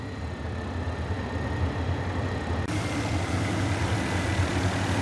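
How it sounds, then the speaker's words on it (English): MD500D helicopter engine in a flight simulator game, a steady low turbine-and-rotor drone that holds constant, with a slight change in tone partway through and no talk. "Notice the difference in engine sounds when you handle the collective"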